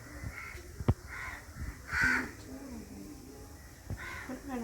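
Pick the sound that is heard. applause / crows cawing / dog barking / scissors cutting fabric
crows cawing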